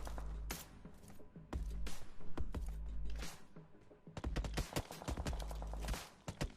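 Gunfire from a ship in the mobile game BGMI comes in rapid loud bursts of shots with brief pauses between volleys, ending in a dense flurry.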